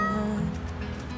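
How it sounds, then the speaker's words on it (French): A cute little cat in a Christmas advert, fancying itself Santa Claus, gives a soft meow under light music in the background. "un petit chat tout mignon qui se prend pour le Père Noël"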